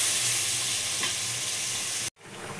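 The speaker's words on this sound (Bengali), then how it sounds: "এটাকে মশলাটা ভালো করে কষিয়ে নেব।" Spice paste of garlic, green chili, ginger and tomato sizzles and is stirred in a hot pan, a steady close frying hiss with scraping, cut off by a brief silence near the end.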